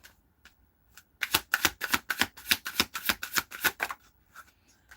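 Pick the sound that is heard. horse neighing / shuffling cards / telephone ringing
shuffling cards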